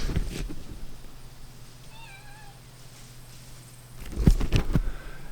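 A single high, wavering Siamese kitten meow sounds faintly mid-clip, followed by some rustling and soft thumps nearby.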